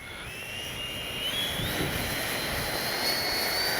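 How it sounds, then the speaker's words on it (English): An FMS 70mm Yak 130 RC jet takes off, its electric ducted fan a steady rising high whine with a rushing roar that swells slightly toward the end. "take off this time without takeoff flaps"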